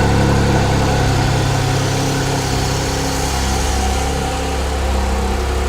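A Porsche engine idling just after starting, a loud, steady low rumble close by that holds evenly for several seconds while it warms up, with no talking.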